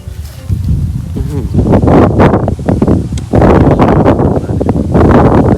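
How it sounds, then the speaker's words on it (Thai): Strong wind buffets the microphone of a rider out on the road, making a loud, continuous roar and rustle with gusty swells that never let up. "ลมแรงมาก"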